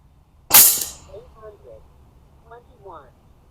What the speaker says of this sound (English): I'm gonna shoot one or two more.